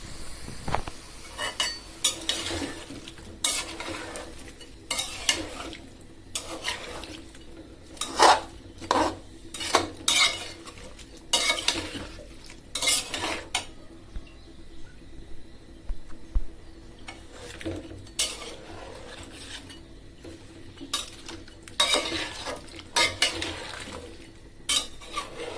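Cauliflower stir-fried with spices in a pan, with repeated clinks and scrapes of a spoon against metal in an uneven rhythm over a soft background hiss, close and moderately loud.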